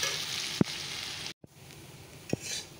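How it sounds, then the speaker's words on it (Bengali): Potatoes fry in a pan at home with a faint, steady sizzle, broken by a few sharp clicks of a utensil stirring against the pan and a brief dropout. "আলু ভাজাটাও বসিয়ে দিয়েছি আর রুটিটাও মাখা।"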